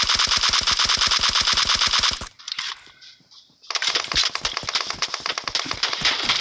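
Rapid automatic gunfire comes from a video game, a fast, loud stream of shots that breaks off for about a second and then resumes in another burst with echoing cracks.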